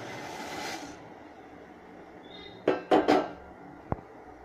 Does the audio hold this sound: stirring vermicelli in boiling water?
yes